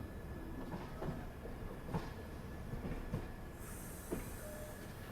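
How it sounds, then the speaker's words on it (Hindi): Marudhar Express passenger train departing on a curve near Abu Road, a steady rumble of wagons with faint clicks from the wheels and a thin squeal in the last second or so. "खूबसूरत सा कर्व लेते हुए अपनी ट्रेन डिपार्चर ले रही है यहाँ पे।"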